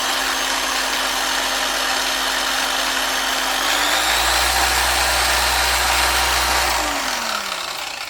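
Chemical Guys TORQ 15 DA random orbital polisher running, a steady close motor hum with a whine that lowers and then rises again as the load or speed changes, quiet with no rattling.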